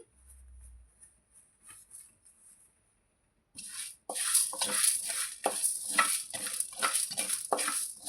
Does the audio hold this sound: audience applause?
no